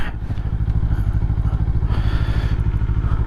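A Kawasaki Eliminator motorcycle pulls away in gear, its engine pulsing loudly and steadily close by, the throb rising as it gets moving with no voices over it.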